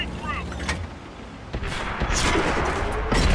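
Tank cannon fire in World of Tanks: several sharp, heavy booms burst out in quick succession, loud and close, with rumbling battle noise filling the gaps.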